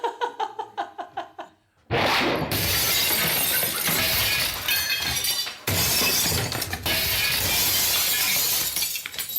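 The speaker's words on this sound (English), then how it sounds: "a large blue metal disc spinning through the air at speed as it hurtles towards the aforementioned glass greenhouse recording studio" A metal disc smashes into a glass greenhouse in a radio comedy sound effect. A run of rhythmic clanks gives way to a loud, sustained crash of shattering glass and tinkling debris lasting several seconds, with a brief break partway through.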